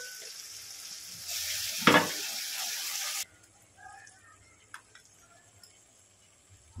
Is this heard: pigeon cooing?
no